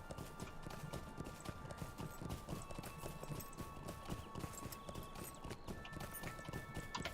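Steady rhythmic clip-clop of horse hooves while riding in the Lord of the Rings Online video game, a continuous galloping beat with faint background tones and no talking.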